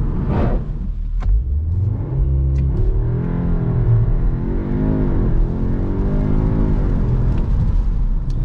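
A 2021 Audi S3's 2-litre turbocharged engine revs and accelerates with a deep rising rumble and whir, steady and loud throughout, no voices.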